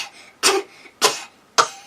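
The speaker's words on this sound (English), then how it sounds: "He has a milk cough." A newborn baby boy gives three short, separate little coughs, the kind he makes when he wants milk, evenly spaced and heard close by.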